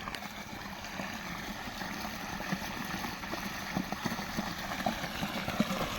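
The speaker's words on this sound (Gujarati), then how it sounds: "જુઓ પાણી મશીન આપણું ચાલુ થઈ ગયું છે તો પાણી આવેલું છે જુઓ" Irrigation water flowing from a pump line into a mustard field on a farm, a steady rushing, gurgling wash with small splashy bursts, continuous and fairly close throughout.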